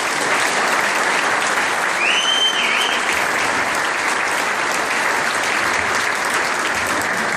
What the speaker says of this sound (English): Please join me in a round of applause and welcome Ambassador Kennedy